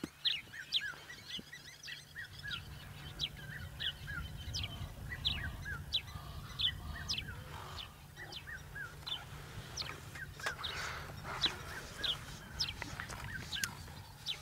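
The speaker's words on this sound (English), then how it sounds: "There's a red-chested cuckoo calling frantically in the distance." Red-chested cuckoo calling repeatedly and insistently in the distance at sunset in the African bush, with its calls repeating steadily over low background hum and other faint bird chatter.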